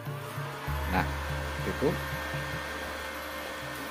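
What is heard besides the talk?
welding machine switched on and running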